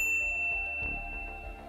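A single bright notification ding rings out at the start and its clear tone hangs on and fades, followed by a soft low thump.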